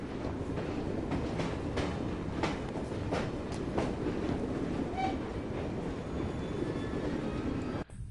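Train rolling along rails in the video game Assassin's Creed Syndicate, a steady loud rumble with rhythmic clicks of wheels over track joints throughout, ending in a brief dip near the close.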